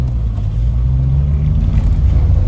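A Renault 5 Baccara with a vibration fault and a smoking engine runs with a loud, close, steady low rumble that holds even throughout.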